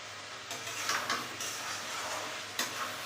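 Chicken masala frying in oil in a home kitchen, a steady close sizzle with a few sharper scrapes and clinks as a spoon stirs the pan, with no voices.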